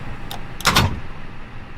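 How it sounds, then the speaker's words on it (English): Cockpit door being locked in Microsoft Flight Simulator 2020, a short mechanical clunk and latch click heard once at close range over a steady low cabin hum. "Locking the door."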